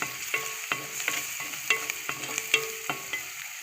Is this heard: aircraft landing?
no